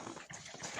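A lively young puppy whimpers in a short burst of soft, high yelps and whines, close and fairly quiet, with no talking.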